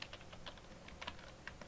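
Someone typing on a computer keyboard while working in Django code, a quick burst of soft clicky keystrokes, close and fairly quiet, with no voice over them.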